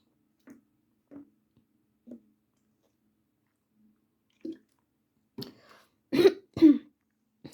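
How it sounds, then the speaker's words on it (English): A person clears their throat after drinking water: a few soft, sparse mouth and swallowing clicks in a quiet room, then a cluster of two or three louder, rough throat-clearing bursts near the end. "Just to clear my throat."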